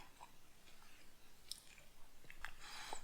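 Someone chews cold, stale tater tots up close, with soft irregular mouth clicks and mushy bites that are quiet and not crunchy.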